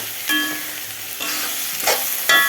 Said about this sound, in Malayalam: പച്ചമുളകും സവാളയും കൂടെ ഇട്ട് വഴറ്റുന്നത്